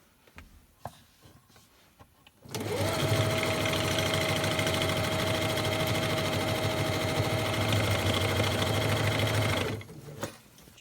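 A sewing machine stitching around the edge of a lunch bag starts abruptly, runs at a steady loud whirring pace for about seven seconds, then stops, with quiet handling sounds before and after.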